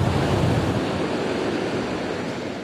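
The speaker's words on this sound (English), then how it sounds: "a lot of waves, really windy" Large lake waves roll and crash onto a beach under strong gusting wind, a loud, continuous broadband roar of surf and wind buffeting the microphone, with no voices.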